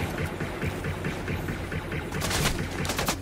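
Rapid bursts of gunfire in the Fortnite Battle Royale video game, dense and continuous with repeated sharp shots over a loud game soundscape, no voices.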